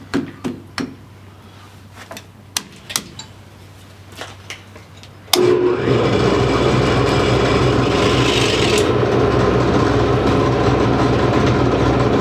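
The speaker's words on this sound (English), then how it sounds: "Now we're ready to drill some holes." A drill runs steadily and loudly during repair work on a logging winch, beginning abruptly partway through after a stretch of scattered clicks and knocks in a workshop.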